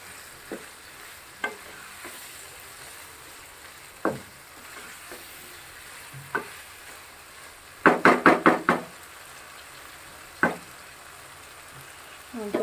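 Beef with bones sizzles in oil in a pot while being stirred, a low steady fry broken by single scrapes and knocks and a quick burst of several clanks from the spoon partway through.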